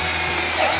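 A Bosch GSR 12V-15 FC cordless drill runs steadily with a small bit, drilling into a workpiece in a continuous, loud, close-up whine with no talk over it.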